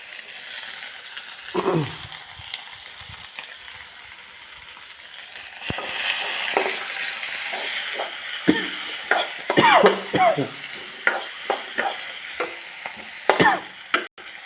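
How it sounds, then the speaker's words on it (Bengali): Onions and garlic sizzle in hot oil while a utensil stirs them, scraping and clinking against the pan in a run of sharp clatters over a continuous frying hiss. "পেঁয়াজ রসুনগুলা লাল করে ভেজে নেবো"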